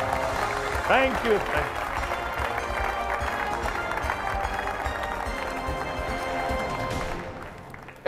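A studio audience applauds on a Bhojpuri TV quiz show, with dense, sustained clapping that fades out at the end while a voice talks over it.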